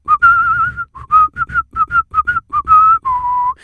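Loud, close whistling of a well-loved anthem, deliberately out of tune with extra notes added, delivered in short melodic phrases with brief gaps between them.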